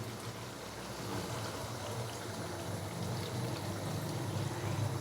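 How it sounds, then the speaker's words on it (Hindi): Water poured into a simmering Hyderabadi chicken gravy with green chillies, a steady low bubbling and splashing hiss that holds at an even level throughout, close and alone. "साथ में मैं इसके अंदर डालूँगा हाफ़ गिलास के करीब पानी"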